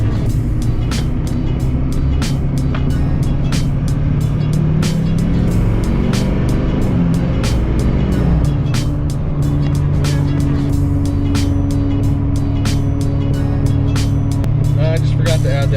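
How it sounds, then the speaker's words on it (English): A lifted LLY Duramax diesel truck with a 12-inch lift, PPE tune and 39.5-inch Super Swamper tires cruises down the road, giving a steady loud engine and tire drone with a continuous low hum throughout. "for anyone wanting to know what super swampers sound like,"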